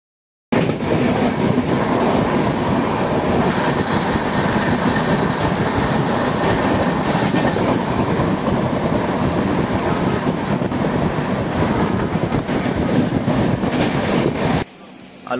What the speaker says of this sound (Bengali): তোমাদের ট্রেন ছেড়ে দিয়েছে